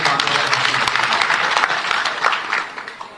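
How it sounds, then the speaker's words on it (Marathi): Sustained crowd applause at a political rally for Manoj Jarange, dense and steady from start to finish, with a loud, close wash of clapping that blends with some raised voices. "आणि एकदा टाळ्या आपण त्यांच्यासाठी वाजवल्या."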